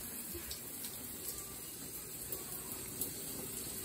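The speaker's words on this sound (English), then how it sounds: "Now they hear the shower." Water from a shower runs steadily in a bathroom, making a faint, even hiss with no voices over it.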